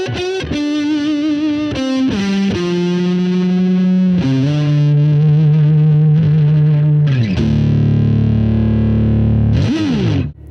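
Sustained distorted electric guitar on an Epiphone 1961 Les Paul SG Standard neck pickup, with a warm, rounded tone, playing held notes and chords loudly, with a brief swelling change near the end.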